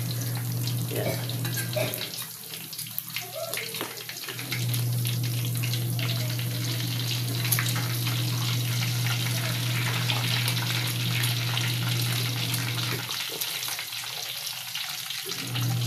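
Pork cheek fries in hot oil with a steady, loud sizzle and crackle that briefly drops away when the meat is turned, while someone talks over it.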